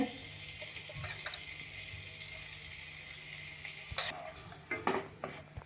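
Cumin seeds sizzling in hot oil and a cube of butter for dal khichdi, a faint steady crackle close by, broken by a few light stirring knocks.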